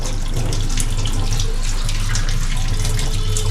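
Tap water runs steadily into a sink while raw meat is washed, a continuous loud rushing stream with faint splashing and no pauses.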